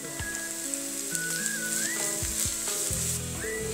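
Onion and carrot frying in a pan, a continuous bright sizzle with crackles and occasional stirring scrapes, close and steady throughout.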